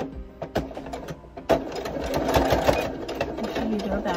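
A sewing machine stitches down a Dollar Tree hand towel potholder in quick bursts of rapid mechanical chatter, stopping and starting before a longer steady run, close and clear, with quiet talking in between.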